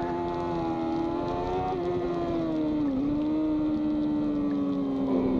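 Yamaha R6 sport motorcycle racing on the track at Hallett, its engine a continuous high-revving whine that rises and dips slightly with shifts, loud and close throughout with no talking.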